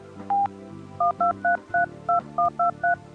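A rapid series of about ten telephone keypad tones entering a Zoom code, each short two-pitch beep, over a low hum, the first held slightly longer.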